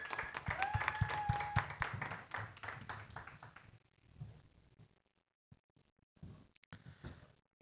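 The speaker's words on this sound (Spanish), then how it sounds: "Reciban con un fuerte aplauso a Isabel Marco." Audience applause welcoming a performer to the stage at a live Aragonese rock show, clapping strongly at first under a brief whistle-like tone, then thinning into scattered claps and quiet gaps.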